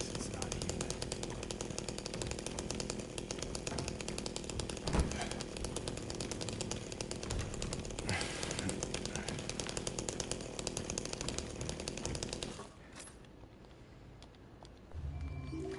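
A chainsaw revs loud and continuous in the Silent Hill 2 Remake video game, a steady buzzing roar with one sharp hit partway through, cutting off near the end before briefly starting again.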